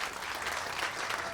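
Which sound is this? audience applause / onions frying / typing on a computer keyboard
audience applause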